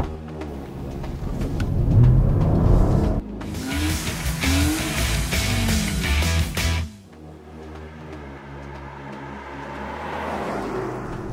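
A Porsche hybrid with a 243 kW petrol engine and a 100 kW electric motor drives off in hybrid mode. A low engine drone builds, then swells into a louder surge with rushing road and wind noise before easing to a quieter, steady cruise.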